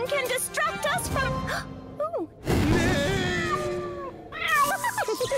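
An animated cartoon cat meows and wails in several short, pitch-bending cries, including a drawn-out descending moan, mixed with character voices in a children's cartoon.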